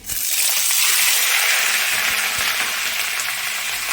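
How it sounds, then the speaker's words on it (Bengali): Fish heads hit hot oil in a wok, setting off a loud, dense, steady hiss of frying that fills the whole stretch, close by and without any voices. "পাশের কড়াইতে আমার তেলটা গরম হয়ে গেছে। এবার আমি মাছের মাথাগুলো দিয়ে দিচ্ছি।"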